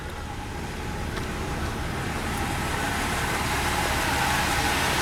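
A pickup truck engine idles steadily with a deep, even rumble, close and continuous, with no other sounds over it.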